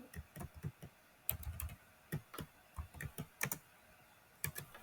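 Steady typing on a computer keyboard while writing a comment on the Scratch site, with many crisp, close keystrokes arriving in an uneven rhythm, alone without speech.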